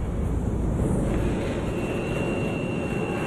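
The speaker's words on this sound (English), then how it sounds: "the plane hits a strong jet stream" Steady, loud broadband roar inside an airliner cabin as it flies through strong jet-stream turbulence, with a constant rushing engine and wind noise throughout.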